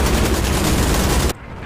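Spitfire machine guns firing in the combat flight simulator DCS World, a loud continuous rattling burst that runs for over a second and then cuts off abruptly, leaving quieter engine noise.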